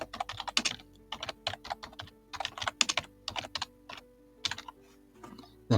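Quick bursts of typing on a computer keyboard while renaming an email label, close and crisp, with clustered keystrokes separated by short pauses and a final louder click.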